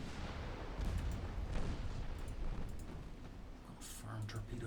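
Naval gunfire booms out in a warship battle in Ultimate Admiral Dreadnoughts, with guns firing at an enemy cruiser; dense rumbling blasts and crackling shots roll on continuously at moderate loudness, with a voice speaking over the barrage.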